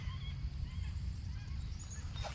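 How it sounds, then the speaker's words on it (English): Distant birds honk and call over a low, rumbling background, a scattered flock heard faintly from afar. "Bunch of birds."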